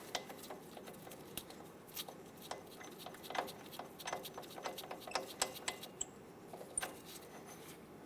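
A socket wrench works on the lower ball joint bolts of a 2003-2009 Dodge Ram 2500, giving a run of quiet, rapid ratcheting clicks and light metallic taps close by, with no talking.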